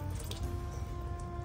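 Salted cabbage for kimchi is squeezed hard by hand, wringing out water in a continuous soft wet squish and trickle, fairly quiet and steady with no pauses.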